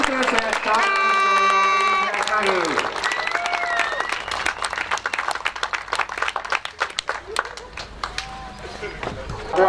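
Outdoor crowd applauds at a motocross awards ceremony honouring the MX Open A-class podium finishers, steady dense clapping that rises out of an announcer's amplified voice and carries on with scattered cheers.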